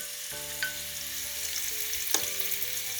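Paneer pieces fry in a pan with a steady hiss, while a couple of sharp utensil clinks and stirring scrapes stand out over the sizzle.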